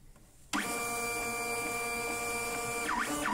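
A Honeywell PC42t+ thermal label printer runs its calibration cycle, a steady close mechanical whir with a sustained tonal hum that starts abruptly and continues evenly, with brief warbling tones near the end.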